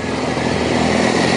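Motorcycles passing on a road, a steady close engine drone with a slight rise in loudness, heard from traffic.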